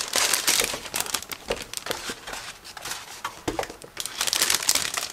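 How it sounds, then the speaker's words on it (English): A resealable plastic bag holding model kit sprue frames is handled and pulled open up close, giving irregular bursts of crinkling and rustling plastic with brief pauses between handlings. "Resealable plastic bag, so it should be relatively easy to open it."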